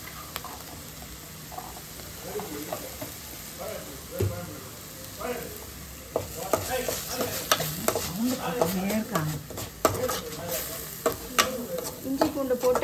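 Ginger and garlic sautéing with softened onions in a pan: a steady oil sizzle with repeated spatula stirring and scraping that grows busier midway, with faint voices in the background.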